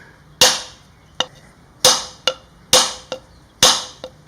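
Sharp knife-blade taps against a coconut shell as it is turned to crack it, four paired hits in a steady rhythm, each a loud crack followed by a lighter tap, close up with no talking.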